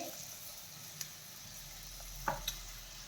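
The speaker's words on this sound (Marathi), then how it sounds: "मसाले छान परतून घेऊयात" Turmeric and spices fry gently in oil in a pan while a potato filling for halwai-style crispy samosas is made: a faint, steady sizzle with a few soft clicks of a spoon.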